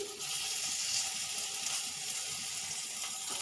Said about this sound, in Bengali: এবার আমি এক এক করে মাংসর পিসগুলো এর মধ্যে দিয়ে দেবো। দিয়ে ভেজে তুলে নেব।